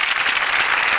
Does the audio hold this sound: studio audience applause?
yes